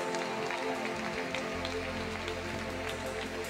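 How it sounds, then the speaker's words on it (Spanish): A church congregation applauds during a Spanish-language service, a dense, steady wash of clapping that continues throughout over a low hum, with no clear talk on top. "Alguien dele un aplauso al Señor por esta mujer."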